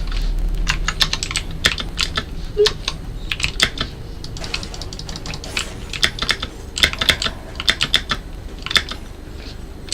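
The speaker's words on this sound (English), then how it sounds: "My keyboard is so loud." Loud, fast computer keyboard typing during a gaming stream, with dense bursts of sharp clicky keystrokes in irregular runs, close to the microphone, and no talking.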